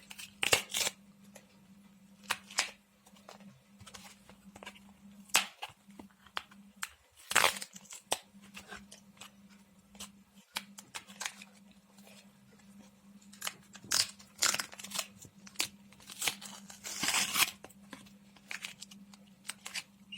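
A Pop Pops Snotz toy package is torn open by hand, giving intermittent close crinkling and ripping bursts of plastic and cardboard over a low steady hum.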